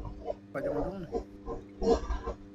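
A pig in Garry's Mod, in a backrooms-style map, gives a few grunting oinks in short bursts, fairly close and moderately loud.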